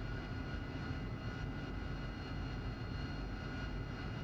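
A steady, loud jet engine roar from an AV-8B Harrier climbing in the DCS World flight simulator, a continuous dense hum and whine with no voices.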